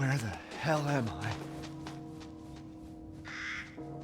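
Crows in a horror video game, a few harsh caws rising and falling near the start, followed by quieter ambience and a brief hissing burst, with someone talking over it.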